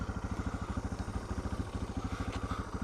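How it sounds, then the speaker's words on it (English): A vehicle rolls by on a farm road at night, its engine producing a steady, rapid low thrumming pulse that stays close and even throughout. "Oh, we got a vehicle."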